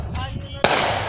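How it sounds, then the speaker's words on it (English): A firework explodes with a sharp, loud crack about halfway through, its noisy tail ringing on to the end, after a brief stretch where a person is heard speaking. "There's no more fireworks, but you can hear the sound."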